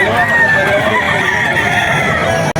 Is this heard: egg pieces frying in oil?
no